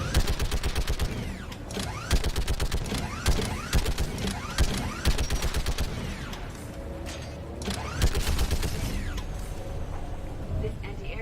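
Rapid, repeated bursts of anti-aircraft turret gunfire in Mass Effect 3 sound loud and steady throughout, with mechanical clatter and a voice talking over the shooting.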